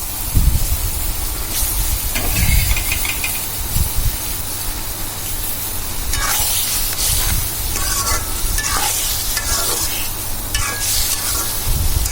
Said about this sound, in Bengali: এবার আমি এগুলোতে দিয়ে দেব ভাজা আলু এবং কাঁকরোলগুলো।